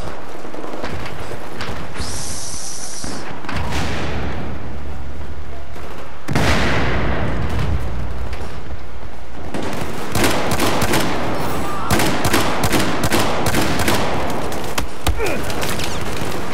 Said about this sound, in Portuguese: A arma do cara parece que solta tiro de calibre 50, metralhadora dele